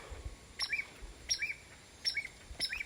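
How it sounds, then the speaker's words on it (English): A blackbird or grackle gives four short, bright calls at an even pace, each about two-thirds of a second apart. They sound fairly quiet over a low, rumbling background. "Oh, a bird just came to visit. You might hear. It's a blackbird."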